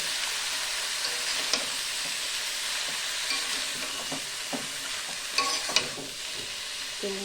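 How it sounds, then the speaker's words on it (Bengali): Spinach and eggplant frying together in a wok, a steady broadband sizzle with scattered stirring scrapes and clatters, close and fairly loud throughout. "এবার কেটে রাখা পালং শাক বেগুন সব একসাথে আমি কড়াতে দিয়ে দিলাম।"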